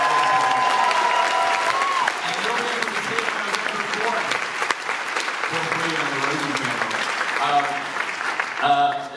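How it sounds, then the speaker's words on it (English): Audience applause fills a film premiere screening at TIFF 2022, a dense, steady clapping that runs the whole stretch with crowd noise, a few cheers and some talk mixed in. "Let's give a big round of applause for the Roku channel for making this."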